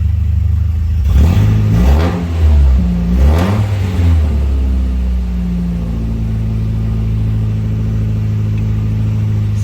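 A 1992 Volvo 240 engine revs up twice in quick succession, loud and close, then drops back to a steady, rough idle that hums on alone.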